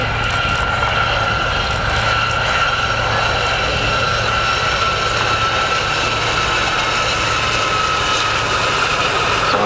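Several small five-seater aircraft flying in tight formation at an air display produce a loud, steady engine drone and whine that holds without a break, with no talking.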